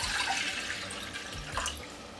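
A full mug of water is poured into a pot for vegan rice pudding, a continuous close splashing gush with gurgling that runs throughout, no voices.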